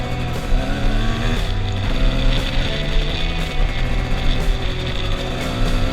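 A Honda CR250 dirt bike ridden during morning practice, its two-stroke engine droning loud and close with shifting revs and a steady rough buzz, and no talking over it.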